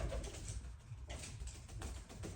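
A pigeon coos softly nearby, low repeated throaty calls against quiet background noise.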